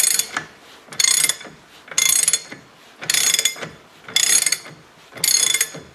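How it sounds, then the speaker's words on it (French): A heavy-duty ratchet on a 32 mm socket clicks in six evenly spaced bursts of rapid pawl ratcheting, loud and close, with brief quiet pauses between strokes while tightening on a vehicle's front axle. "j'utilise encore le cliquet poids lourd en tant qu'à faire"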